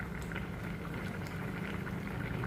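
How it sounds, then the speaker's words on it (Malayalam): Fish curry boiling steadily in a pot, a dense continuous bubbling and pattering that stays at an even level throughout, close by and with no other sounds. "നമ്മുടെ മീൻകറി നല്ലതായിട്ട് തിളച്ച് വരുന്നുണ്ട്"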